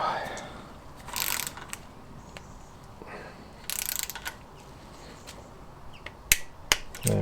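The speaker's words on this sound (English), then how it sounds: "Torque wrench set to 10" Engine bolts on a classic Fiat 500 are tightened with a torque wrench during a camshaft, timing chain and oil pump installation. A few brief, close ratchet and click bursts stand out against a quiet workshop background.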